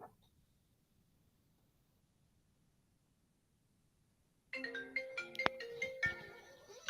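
A phone ringtone for an incoming call starts abruptly after several seconds of near silence and continues loud and close as a bright repeating electronic melody.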